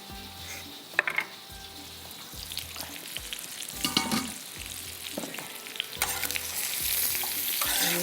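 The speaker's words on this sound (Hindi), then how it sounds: "थोड़े से इसको फ्राई करके मैं साइड पे रखती हूँ।" Chopped ginger and meat fry in a pan as a spoon stirs with a steady sizzle, punctuated by repeated scraping and clinking strokes, close and fairly loud, building toward the end.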